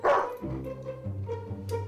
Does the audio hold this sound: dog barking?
yes